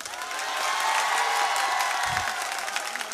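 Audience applause at a literature festival conversation, a steady wash of clapping from a crowd that holds for a few seconds at moderate level.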